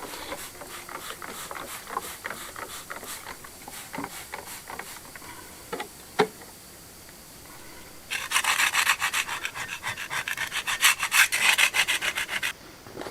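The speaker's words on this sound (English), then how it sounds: "You've got to agua fuerte it, give it a good scrub, wash it off" Scrubbing stone with agua fuerte: irregular close scraping strokes at first, then a denser, louder bout of vigorous rubbing in the last few seconds, with no voices.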